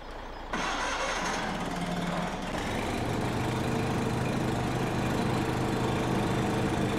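A Craftsman lawn mower engine in the Farming Simulator 17 video game starts with a sudden cough, then settles into a loud, steady mid-pitched drone that runs on alone.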